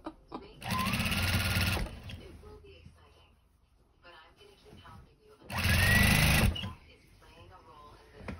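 A sewing machine stitches a denim quilt in two loud, close bursts of steady whirring, each about a second long. Quiet handling sounds and a voice come between the bursts.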